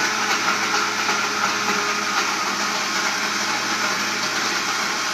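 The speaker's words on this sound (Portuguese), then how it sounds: "Bate no liquidificador." A kitchen blender runs continuously at a steady high speed, a loud, even motor whir with no pauses or talk.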